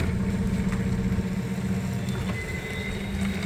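A 2018 Toyota 02-8FGF25 gas forklift sits running in a warehouse as its forks lift, giving a steady low engine drone with a faint hydraulic whine rising in the background at moderate volume.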